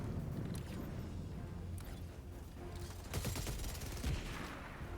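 Sentry turret fire in the Helldivers 2 video game, with bursts of rapid gunfire rattling through a background of game ambience, fairly quiet overall with a denser volley near the end.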